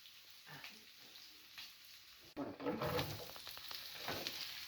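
Onions frying and being stirred in hot oil in a pan, a steady sizzle that swells louder partway through as they are tossed and mixed, close and continuous.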